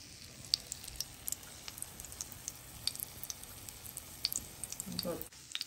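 Breaded patties made from sausages and cheese fry in a hot pan, a steady crackling sizzle with scattered pops, close and continuous, with someone speaking over it.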